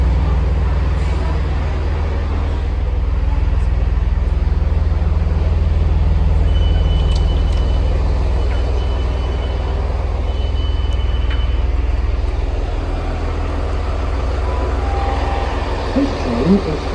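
Train at Stoke Mandeville railway station gives a steady low rumble of engine and wheels throughout, with faint higher tones coming and going in the background.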